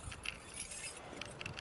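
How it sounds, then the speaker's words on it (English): Metal keys jingle and clink in short bursts as they are gathered to unlock the front door of a house, a quiet rattling texture close by with no voices. "I have to get keys to unlock the front door."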